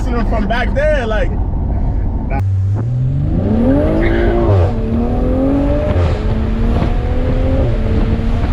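A BMW, an X3 M or M340i, squeals its tires under heavy braking: a sustained tonal whine that rises and wavers for several seconds over engine and road noise, with people talking throughout.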